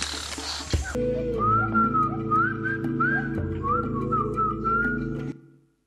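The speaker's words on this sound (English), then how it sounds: "They use whistling when they're hunting" A person whistles a wavering, rising-and-falling tune, as Pirahã people of the Amazon whistle while hunting, over a steady low drone, then the sound cuts off abruptly.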